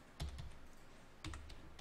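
Two quiet key presses on a computer keyboard, the F4 key tapped about a second apart, each a soft double clack close to the microphone in a quiet room.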